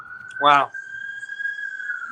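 Siren heard during live horse racing coverage: a steady high wailing tone runs throughout at moderate level, with a brief spoken exclamation over it near the start.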